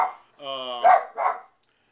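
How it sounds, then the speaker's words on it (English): A dog barks close by: a whining yelp followed by two sharp barks, with a faint voice behind it. "the dog doesn't want to be quiet now"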